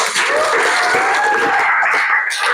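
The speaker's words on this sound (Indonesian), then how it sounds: "Tepuk tangan dulu buat kita semua" Audience applause at the close of an Islamic religious education teaching session in a classroom, a steady dense wash of clapping with some faint voices mixed in.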